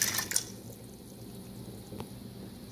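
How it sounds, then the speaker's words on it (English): Water poured into a crock pot of red beans, a brief splashing burst at the start followed by a quiet trickle and a single faint drip, close and soft. "And then I add about 8 cups of water."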